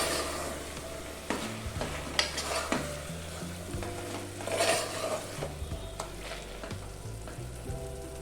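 Chopped mint and coriander are stirred into a sizzling pan of chicken haleem, with steady frying hiss under repeated scraping and clinking of a spoon against the pan, close and continuous.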